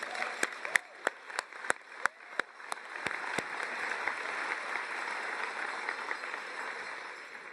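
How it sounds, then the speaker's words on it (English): A commencement ceremony audience applauds in a large hall. A few sharp, separate claps ring out early over a broad, diffuse patter of many hands, which then settles into a softer, even wash that fades toward the end. "You deserve one more round of applause at least."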